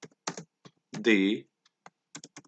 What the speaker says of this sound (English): I am typing name